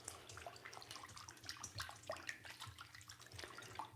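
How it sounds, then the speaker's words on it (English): Cherry tomatoes rinsed and rubbed by hand in a bowl of distilled water, soft close splashes and trickles with small irregular drips, quiet and continuous without talk. "So we just like to rinse them off and kind of rub them down."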